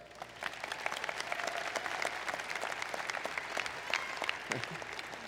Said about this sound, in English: Dr. Elizabeth Tennyson, yes, please give her a round of applause.